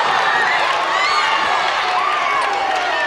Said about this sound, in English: very vocal cheering section.